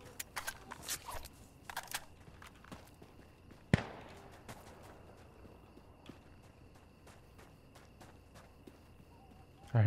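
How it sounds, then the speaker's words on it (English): Hurried footsteps crunching over rubble in the shooter game Insurgency Sandstorm, a quick run of scattered, gritty steps early on, a sharp impact midway, then quieter ambience with faint distant ticks. "I heard this guy running through the rubble."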